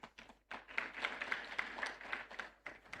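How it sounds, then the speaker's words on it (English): Audience applause at an environmental summit in Nigeria, a scattered clapping crowd building after a brief pause and continuing steadily, moderately close, with faint voices underneath. "Another warm round of applause for him"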